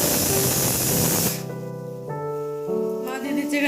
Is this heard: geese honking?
no